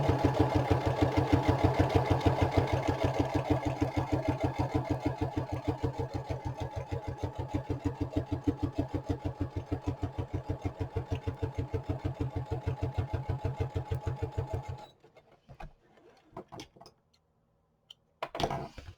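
A sewing machine stitches a fresh seam through a paper file folder, a fast steady mechanical whir with rhythmic needle pulses for about fifteen seconds, then stopping and leaving a few faint handling sounds.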